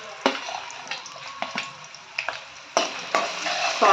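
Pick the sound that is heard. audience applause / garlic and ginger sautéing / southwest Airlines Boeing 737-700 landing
garlic and ginger sautéing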